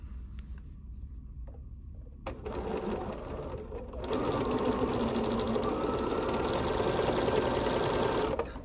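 A sewing machine stitches fabric pieces for butterfly wings in a continuous chain-piecing run, its steady motor hum starting quietly, rising near 2 seconds, then running louder and even from about 4 seconds to the end.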